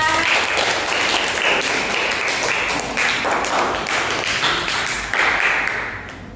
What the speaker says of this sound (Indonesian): Tepuk tangan dong buat Mbak Evika.